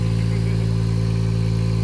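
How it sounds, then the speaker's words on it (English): A brand-new boat engine, likened to a Kubota tractor, idles at a steady, loud, even rumble with strong low harmonics and no change in pitch. "Sounds like a Kubota tractor."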